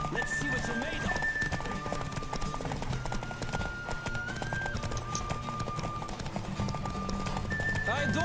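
A horse gallops in The Witcher 3 with steady rapid hoofbeats over a dense music bed, a neigh rising at moments, the whole game mix loud and continuous.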